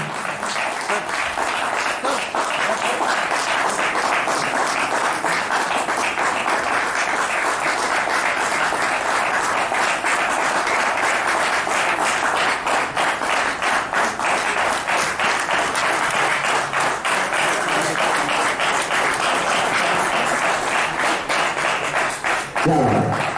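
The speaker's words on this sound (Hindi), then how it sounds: "एक बार जोरदार ताली से स्वागत करें प्लीज।" An audience at a CRPF cycle rally reception in Jhansi breaks into loud, sustained applause, dense clapping rolling on for over twenty seconds before easing slightly at the end.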